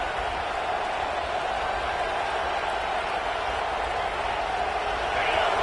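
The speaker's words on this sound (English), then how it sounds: "This crowd bringing the energy and noise early." A dense, steady roar of a large crowd cheering and shouting, loud and continuous throughout, with a slight swell at the very end.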